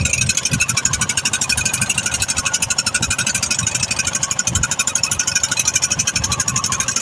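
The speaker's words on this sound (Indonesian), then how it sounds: "Mesin diesel 2 unit dinyalakan semua biar melaju dengan cepat." Twin diesel engines drive a traditional fishing boat home at speed off Kendal, a steady close drone with rapid low thumping pulses and broadband clatter throughout.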